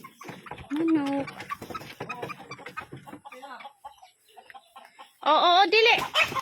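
Chickens cluck and squawk close by in loud, choppy bursts, with a louder flurry of agitated calls near the end and a voice briefly heard.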